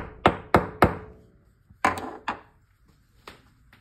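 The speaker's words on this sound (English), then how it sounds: "you might need to get it in there and just give it a little tap." A roll pin is tapped into a Ruger 10/22 rifle part with sharp, close metallic taps: a quick run of three, then two more, then a final lighter tap, each ringing briefly.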